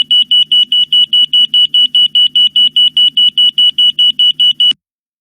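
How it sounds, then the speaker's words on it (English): Airbus A320 evacuation alert tone sounding in the flight deck and cabin, a loud shrill electronic beep pulsing rapidly and evenly about four times a second for nearly five seconds, then cutting off abruptly. "This sounds an evacuation tone in the flight deck and cabin."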